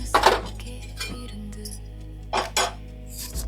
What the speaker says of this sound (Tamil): அடுப்பு பற்ற வச்சு பாத்திரத்தை வைக்கணும்.